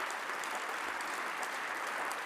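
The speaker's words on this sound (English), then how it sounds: "Give them a round of applause." Applause from a conference audience at a chefs' general assembly honoring committee members, a steady dense wash of clapping filling the room throughout.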